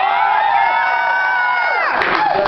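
A concert crowd in the VIP section at Rock on the River in Jacksonville screams and cheers loudly without pause, a dense wall of voices that swells and then dips near the end.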